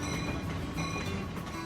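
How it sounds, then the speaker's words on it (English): A narrow gauge steam train runs at the Roaring Camp railroad in the redwoods, a steady rumble of wheels and cars with rhythmic clanking, heard fairly faintly from a short distance. "This operation has narrow gauge steam trains that run on site"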